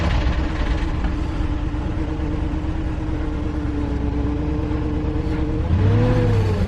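A Volkswagen Touareg V8 with a misfire runs steadily and close, its low engine drone uneven and lumpy throughout, rising slightly in pitch near the end as the revs lift briefly.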